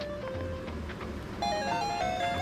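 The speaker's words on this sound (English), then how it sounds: "Do you hear that music? Wow! This ringtone is fun!" A Hello Kitty shopping playset toy plays a tinny electronic ringtone melody, close and steady, switching partway through to a brighter, louder tune with no voices over it.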